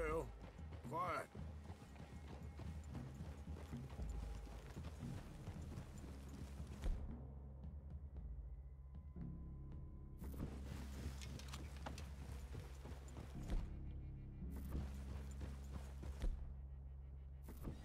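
Horses' hooves clip-clop at a walk in the Red Dead Redemption 2 video game, soft and fairly near, under low ambient wind and intermittent background tones.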